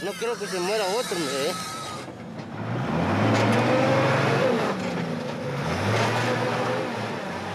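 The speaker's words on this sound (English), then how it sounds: "The driver keeps trying, only to get bogged down even more." A truck engine strains and revs while the vehicle sits bogged in deep mud on a flooded Bolivian mountain road. The engine rises and surges in a loud, sustained drone, and a voice talks over the opening seconds.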